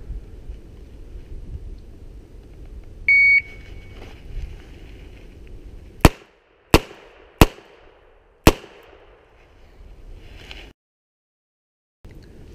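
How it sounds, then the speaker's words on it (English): Revolver fired one-handed at an outdoor police qualification range: four sharp, loud gunshots spaced about a second apart, with wind noise and a brief beep before them and quiet after. "You've got 8 seconds to draw, strong hand only, and fire 4 rounds."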